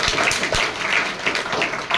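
An audience applauds at a gathering honouring Mahatma Jyotirao Phule, a moderate, even wash of clapping from many hands that carries on steadily for a couple of seconds.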